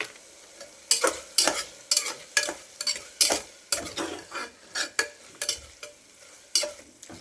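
A spoon stirs garam masala into a frying tomato bath, giving a steady series of close scraping clinks against the pan over a soft sizzle, with no talking.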